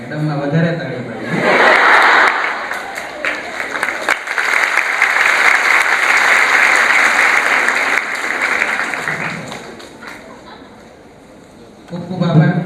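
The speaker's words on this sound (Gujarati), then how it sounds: "મેડમમાં વધારે તાળી પાડી." An audience at a seminar bursts into sustained applause, dense clapping building quickly and holding for several seconds before fading, with a speaker's voice at the start and end.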